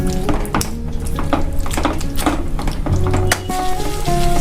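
Mutton liver roast simmering into a gravy in a pan after a little boiling water is poured in, giving a steady loud sizzle and bubbling with scattered clinks and scraping of a spoon against the pan, with no talking.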